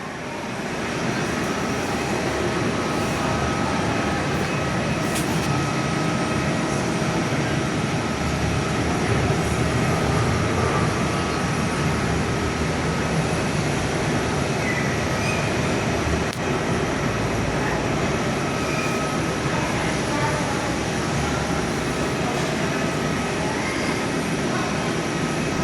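Jet engines of Airbus A320 airliners run at Perth airport, heard as a loud, steady, continuous roar and whine that holds for the whole stretch without a break, heard from indoors and with no talking.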